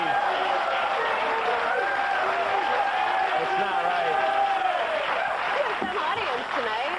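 A late-night talk show studio audience applauds and cheers in a loud, sustained roar of clapping and whoops that holds steady throughout, with voices rising over the crowd.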